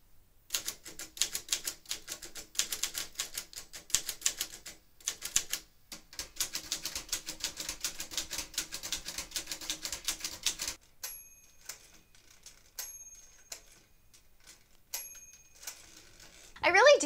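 Someone types on a 1956 Tower Chieftain typewriter, a close, rapid run of crisp key strikes that thins to sparser clacks and pauses, ending with a carriage return and ring.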